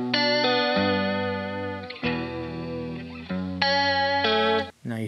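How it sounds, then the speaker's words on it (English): Guitar track in Pro Tools run through a narrow telephone-style EQ, sustained chords sounding thin and boxy, changing a few times and cutting out briefly near the end, with no talking. "Now you hear that telephone effect again."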